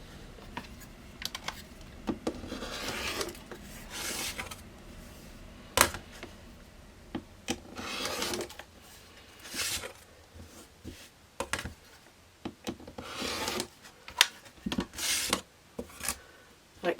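Scissors or a rotary cutter trim the edges of a fabric quilt square, producing a series of soft, scratchy cutting strokes and light rustles with short pauses between them, close and fairly quiet.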